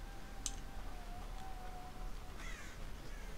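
Crows cawing in the horror video game Dead by Daylight, a few scattered caws over a steady low ambient drone, faint and somewhat distant, with no speech.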